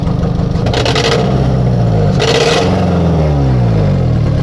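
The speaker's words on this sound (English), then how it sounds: "Try revving this twice." A 2003 Honda Civic 1.7-litre engine revving up twice with a restricted exhaust, the pitch climbing and falling each time, loud and close with a rough exhaust note throughout.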